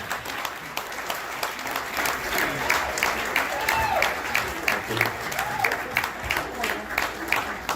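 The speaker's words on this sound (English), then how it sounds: "Stand up for him, please, because that's serious. Round of applause." Lively audience applause at a jazz concert fills the room with steady, moderately loud clapping, mixed with scattered crowd voices and a few whoops throughout.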